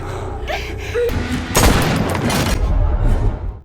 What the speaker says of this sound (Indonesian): tembakan tersebut gagal nyocol ke jantungnya Kate.